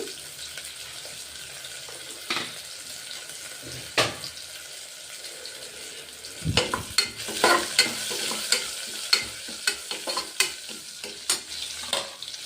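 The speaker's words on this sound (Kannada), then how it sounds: "ಹಸಿಮೆಣಸಿನಕಾಯಿ ಮತ್ತು ಶುಂಠಿ ಫ್ರೈ ಆಯಿತು" Cumin, green chili and ginger sizzle in hot oil in a pan, with a steady close frying hiss and, later on, a run of sharp scraping and clinking stirring strokes against the pan.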